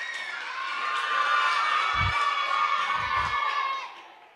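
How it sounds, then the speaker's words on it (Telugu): Children at a Sunday school Bible school game cheer and shout together in a loud, sustained burst, with a few low thumps partway through, before the noise fades. "క్లాప్స్"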